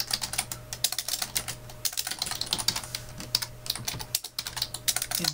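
Rapid, irregular clicking of keys on a computer keyboard as a username is typed, close and clear with brief pauses between bursts, and no speech.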